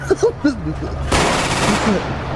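Gunfire erupts in the video game GTA V: a dense, loud burst of rapid shots fills the second half after a brief stretch of voices talking.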